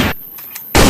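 A yellow toy blaster gun fires two loud, harsh bursts, one at the start and one after a short quiet gap, each close and sharply noisy.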